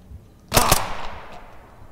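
Gunfire in the Zero Hour video game: one sharp, loud burst of two or three rapid shots that rings out and fades over about a second. No one speaks.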